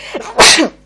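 A single loud, close sneeze: a brief intake of breath followed by a sharp explosive burst, heard alone without talk.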